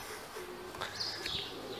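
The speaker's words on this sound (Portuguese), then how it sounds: "As pombas aqui." Pigeons coo softly in the distance in an outdoor spot in Paraguaçu Paulista, faint low murmurs over quiet ambient noise with a couple of brief higher chirps.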